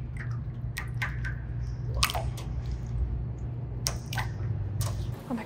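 Cheap water slime dropped and squeezed makes a few soft, wet squishes and drip-like splats, close and quiet over a steady low hum with no talking.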